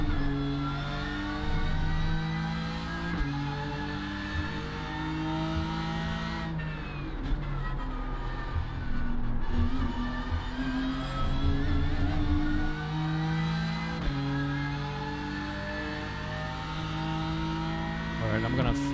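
A BMW M4 GT3 race car roars continuously through a lap at Road America in iRacing, rising and falling with gear changes and braking, while a driver's voice talks over the engine.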